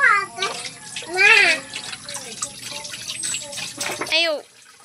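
Tap water running while dishes are washed at a home sink, a steady splashing stream under a child's chatter and other voices.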